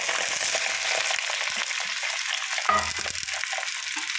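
Ivy gourds sizzle and crackle steadily in hot oil in a pot, close up, with a brief clatter partway through as they are stirred.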